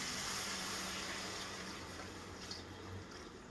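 Thick coconut milk poured into a pan for a coconut milk kuruma, a soft steady liquid trickle and splash, faint and close, with no talk.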